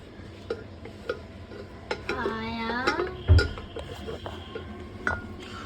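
A metal spoon stirs mutton in a cooking pot, giving sharp clinks and scrapes against the pot with one louder knock, while a person talks nearby.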